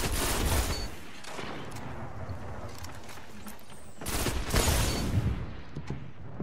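Telesto and Malfeasance weapons firing in Destiny PvP, rapid loud bursts of shots with a dense crackling fusillade that eases briefly and then swells again, heard alone without voices.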